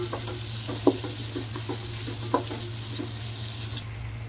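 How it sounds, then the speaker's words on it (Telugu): Soya chunks and capsicum pieces fry in a pan with a constant close sizzle, while a spatula stirs them in repeated scrapes and taps against the metal. "చక్కగా వీటిల్లో ఒక 2-3 నిమిషాలు వీటిని కూడా వేయించేసుకుందాం ఇలాగా."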